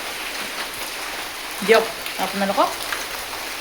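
Steady rain falls outdoors near a house as a constant broadband hiss throughout, with a person speaking briefly over it midway.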